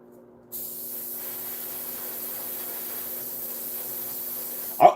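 An airbrush spraying paint for miniatures, a steady faint hiss starting abruptly after a short silence and running evenly to a small knock at the end.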